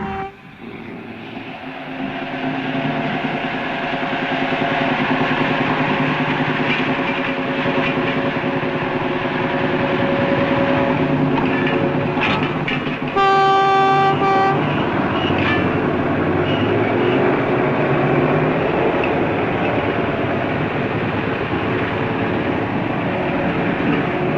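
The steam locomotive King George V no. 6000 rumbles steadily and loudly throughout, with a brief sharp whistle blast partway through over the continuous mechanical roar.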